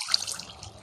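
Water being placed from a bucket in Minecraft PE, a short liquid splash and trickle like water pouring into a sink, moderately loud and heard alone.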